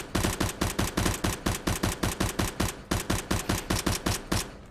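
Rapid automatic gunfire from the video game CS:GO rattles in steady, evenly spaced loud bursts for the whole stretch, close and dense with no talk over it.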